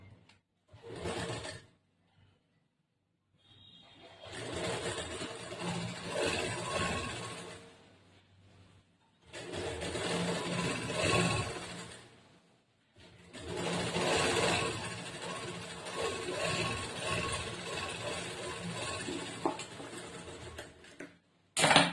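A sewing machine stitches a blouse in several bursts of rapid mechanical whirring and ticking, each lasting a few seconds, separated by short pauses.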